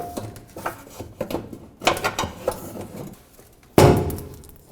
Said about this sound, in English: pry up all of the push clips that hold this bumper pad on